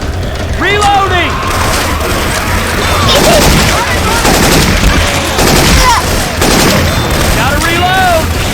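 Video game gunfire from Left 4 Dead 2 with Syphon Filter weapon sounds swapped in: continuous loud bursts and shots fill the scene, with voices calling out over the firing.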